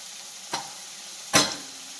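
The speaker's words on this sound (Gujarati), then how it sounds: "હવે હલાવી દઈશું" Two distinct scrapes of a spoon stirring turmeric, chili and coriander-cumin powder into cooking tuvar beans, the second louder, over a faint steady simmer; close and otherwise quiet, no talking.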